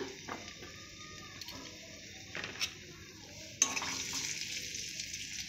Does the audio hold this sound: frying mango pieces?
yes